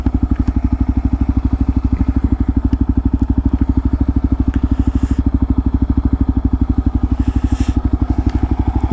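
A stock Kawasaki KLR 650 motorcycle rumbles steadily while being ridden, its single-cylinder engine thumping in a fast even pulse, loud and close, with faint wind and rattles over it and no talk.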